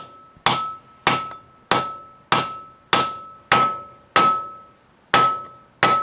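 A steel hammer taps a wheel bearing race into a Nissan Patrol hub, nine evenly spaced, ringing metallic strikes with a clear tinny tone, close and alone.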